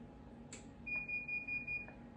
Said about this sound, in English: My handy dandy alarm.